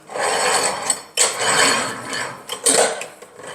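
A woodworking workbench's inclined 24-inch twin-screw vise with a built-in two-speed transmission is turned, giving close, dry rasping and grinding mechanical noise in several bursts with brief pauses and no talking.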